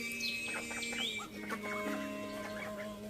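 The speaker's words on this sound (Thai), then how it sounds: "ลูกเป็ดออกมาเดินเล่นกันแล้วนะคะ" Small high-pitched peeping from several ducklings, quick overlapping chirps close by over a steady low background hum.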